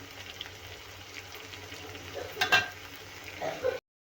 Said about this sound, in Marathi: एक मिनिट आपण छान याला तेलातच भाजून घेऊया